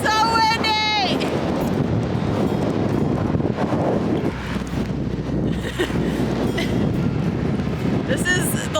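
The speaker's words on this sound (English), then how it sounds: "It's heckin' windy." Strong gusts buffet the microphone in a loud, continuous roar on an open hike near a large waterfall in Iceland, with the wind noise masking most other sound throughout.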